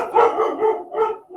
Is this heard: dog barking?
yes